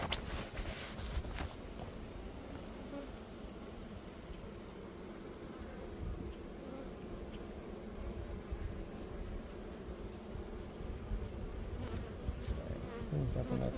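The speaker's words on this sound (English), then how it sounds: "There are so many bees now." Dense, steady buzzing of a honey bee colony swarming around an opened hive during a beekeeping inspection, a close, continuous drone filling the whole stretch with no talk.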